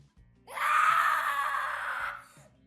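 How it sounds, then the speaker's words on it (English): A little girl screams in pain, a high, piercing, sustained shriek that swells suddenly, holds for about a second and a half, then breaks off, loud and close with no talk over it. "A little girl scream. High, piercing, and full of raw pain."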